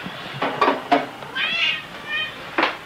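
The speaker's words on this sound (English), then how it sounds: "There's a cat looking for twist ties" A house cat meows indoors, a few short close mews followed by two longer drawn-out cries, with faint knocks and household sounds between them and no talking.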